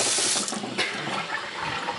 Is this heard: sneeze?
no